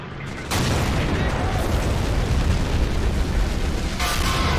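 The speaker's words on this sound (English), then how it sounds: "Whoa. Some huge explosion." A huge explosion in the WWII strategy game Men of War: Assault Squad erupts into a loud, sustained roaring rumble that fills the scene for several seconds amid artillery fire, with a second swell near the end.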